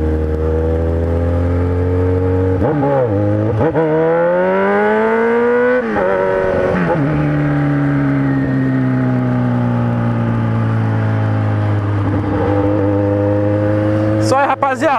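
A nearby Kawasaki Z1000 motorcycle with a 4-into-1 exhaust idles and revs up several times, pitch rising and falling in strong swells, with brief voices in between.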